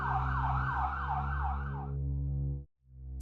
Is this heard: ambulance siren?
yes